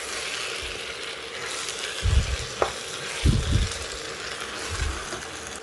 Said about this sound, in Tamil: இதெல்லாம் சேர்த்து எண்ணெயிலேயே ஒரு 2 நிமிஷம் புரட்டிட்டு